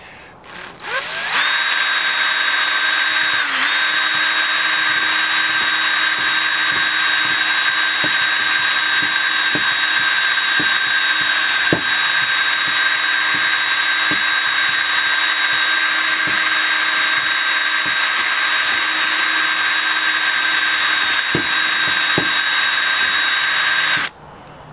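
A cordless drill whines steadily and loudly for over twenty seconds, spinning a wire brush to clean a silver ore specimen, with a constant high-pitched hum and occasional scraping ticks.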